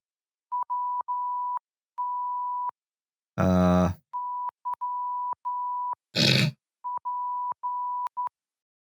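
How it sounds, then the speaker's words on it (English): Morse code beeps spelling WTYP, steady single-pitch tones in short and long pulses grouped into letters, interrupted twice by loud bursts of noise, a growl-like roar and a harsh blast. "Do it in Morse code."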